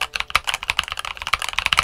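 Fast typing on a Tecware Phantom budget mechanical keyboard, stock and unmodified, gives a dense stream of crunchy, close clicks and clacks at an irregular rapid pace, with no talk.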